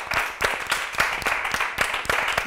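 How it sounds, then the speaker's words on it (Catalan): A studio audience at a Catalan spelling quiz show claps in steady, fairly loud applause that runs the whole moment without a break. "Un fort aplaudiment per l'Emma."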